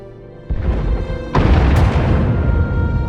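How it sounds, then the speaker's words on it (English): Bombing explosions in Star Wars: The Old Republic, two heavy booms in quick succession, the second larger and nearer, leaving a rumbling roar that lingers afterward. "Sounds like the bombing's getting closer"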